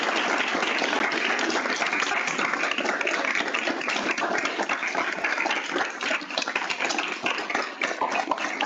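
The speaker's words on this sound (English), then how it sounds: "So we want an especially large round of applause for Shemaya." Sustained applause from a symposium audience in a lecture hall, a thick, crackling spatter of many hands clapping for over eight seconds without pause or speech.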